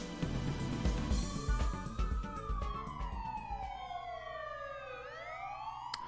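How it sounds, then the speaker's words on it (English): Several police sirens in Phoenix Wright: Ace Attorney - Dual Destinies wail and sweep up and down together, loud at first and then fading as the pitches slide and overlap. "Wait, why are we just hearing the sirens now?"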